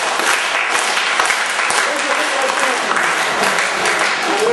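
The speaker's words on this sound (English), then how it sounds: "Slowly clap your hands together like that." A theatre audience at a stage mentalism show claps together in a dense, loud, continuous patter of hands that holds steady throughout, with a voice faintly mixed in beneath the clapping.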